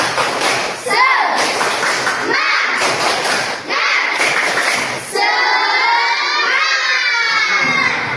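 Classroom group of children performing a 'tepuk semangat' spirit clapping cheer, loud rhythmic bursts of clapping and shouted chant in repeated phrases, ending in a sustained excited crowd of young voices.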